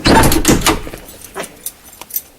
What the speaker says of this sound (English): Always close the door